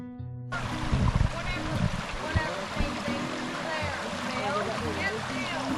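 Steady rushing of Colbert Creek water runs throughout, fairly loud and close, with faint voices murmuring underneath.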